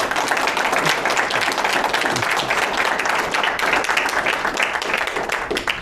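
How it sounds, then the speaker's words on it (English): Wedding guests at a ceremony at the Bronx Zoo applaud the couple, a continuous, busy patter of many hands clapping close by with no break across the stretch. "Let me give them a round of applause."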